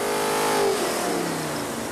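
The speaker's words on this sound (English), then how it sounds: "decide how far to push the pedal with its new engine" A Ford Coyote 5-liter V8 fitted in a 1933 roadster revs on a dyno, a loud, close engine note that rises and holds steady for a couple of seconds with no talking.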